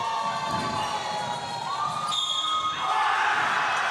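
A crowd cheers and shouts at a youth basketball game in the PSL Global 2006 division, Canada versus New Zealand, a steady roar of voices with a ball bouncing, continuous and fairly loud.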